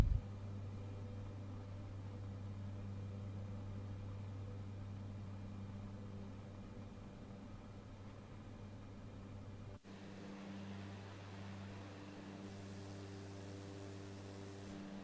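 A small single-engine plane flying over Jamaica's mountain ridges drones steadily from inside the cabin. Its tone shifts abruptly partway through as power is added for the climb, then it holds a constant hum with no talk.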